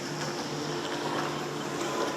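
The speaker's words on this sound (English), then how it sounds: "Boat traffic. A lot of boat running around, huh?" A steady drone of bass boat engines on Lake Jordan, Alabama, during a fishing tournament, continuous and moderately loud with a low motor hum and washing water, no talking.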